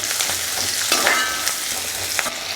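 Small onions sizzle and crackle steadily while sautéing in a pan for mutton bone curry, with a constant bright frying hiss and occasional stirring scrapes, no talking.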